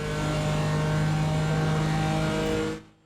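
A BMW M4 GT4 in iRacing runs at sustained full throttle, a steady loud engine drone that holds for nearly three seconds and then cuts off abruptly into silence.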